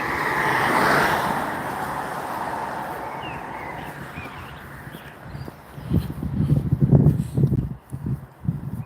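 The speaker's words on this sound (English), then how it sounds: "It's hard when cars are coming past." Cars pass along a road beside someone walking outdoors, one vehicle swelling and fading early, then a quieter stretch before louder rumbling, gusty low noise near the end.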